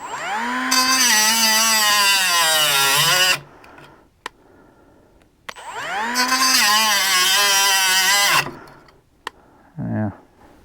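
A Hyper Tough cordless cutoff tool whines loudly in two bursts of about three seconds each. The pitch sags as the tool strains against the cut, and there are short clicks and a brief low thump in between.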